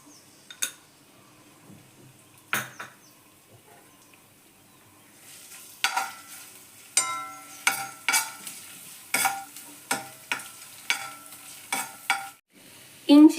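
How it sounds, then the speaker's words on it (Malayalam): Crushed ginger and garlic fry in a pan with a quiet sizzle, broken by sharp spoon scrapes and clinks that come in a steady, repeated rhythm through the second half. "ഇഞ്ചിയും വെളുത്തുള്ളി ഇപ്പം നന്നായിട്ട് മൂത്ത് വന്നിട്ടുണ്ട്."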